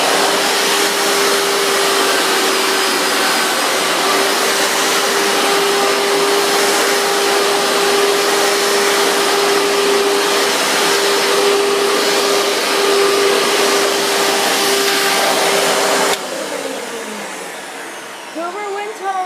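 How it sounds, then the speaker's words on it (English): A Hoover Bagless Twin Chamber vacuum cleaner runs loud and steady for about sixteen seconds with a constant motor whine and a broad rushing airflow, then cuts off abruptly, leaving a quieter fading hum. "Hoover Bagless Twin Chamber"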